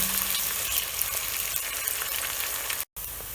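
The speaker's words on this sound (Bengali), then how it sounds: "এই যে এখন আমি 1 কাপ পেঁয়াজ দেব এবং পেঁয়াজটা হালকা ভেজে নেব" Onions fry in hot oil for a green papaya chicken curry, giving a steady, dense sizzle throughout with a brief drop-out near the end; no one speaks.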